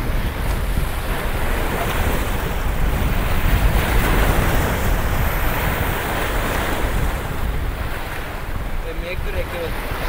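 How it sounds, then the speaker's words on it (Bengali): Rough ocean surf pounds steadily at a Maldives island shore, a dense, continuous roar of breaking waves with wind buffeting the microphone throughout, no gaps or quiet moments. "উত্তাল মহাসাগর।"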